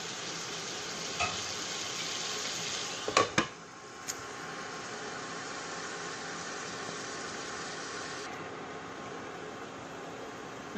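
Steady hiss of king fish frying in oil in a pan, with a few brief clinks of a utensil partway through.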